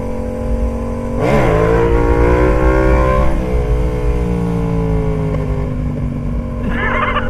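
Motorcycle engine revving hard nearby, rising into a loud brap with a pitch sweep, holding steady, then easing off, with no talk over it.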